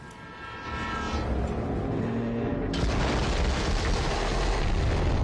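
A train rolls steadily through a level of the video game Borderlands 3, a continuous loud, dense rumble with a sudden rise in intensity partway through, mixed with game sound effects.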